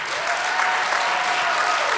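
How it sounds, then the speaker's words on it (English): An audience claps steadily in loud, dense applause, unbroken from start to finish, with no voices standing out. "we should have a big round of applause for Jerry Pinkney"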